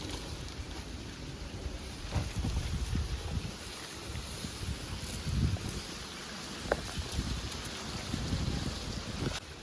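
Outdoor wind gusts around a wood-fired chulha where Maggi is being cooked, a soft rumbling rush that swells and dips irregularly, with brief knocks and faint crackles under it and no voices.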